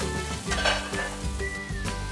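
Meat sizzles loudly and steadily in a hot pan, with light clinks of utensils and cookware scattered through the frying; no voices.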